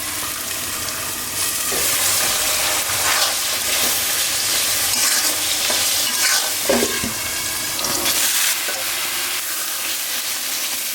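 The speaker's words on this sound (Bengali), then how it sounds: "এটা হলো শাক ভাজি, তেলে দিব শাক।" Leafy spinach greens frying in hot oil make a loud, continuous sizzle with bursts of stirring and scraping throughout, and no one speaks.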